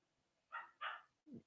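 Dogs bark somewhere in the background indoors: two quick higher yaps followed by a lower single bark, brief and moderately faint, with no talking over them.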